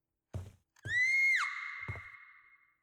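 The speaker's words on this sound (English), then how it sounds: "thank you, Random Scream" A random scream rings out in the Friday the 13th video game virtual cabin: a sustained, shrill, high-pitched cry that breaks off sharply, with a few dull knocks and thumps around it and no talk.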